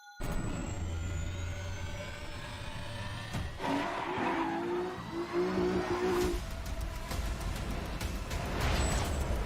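Race cars in a Gran Turismo trailer roar past with revving engines, gear shifts and squealing tires, several passes following one another and staying steady and full before the clip ends.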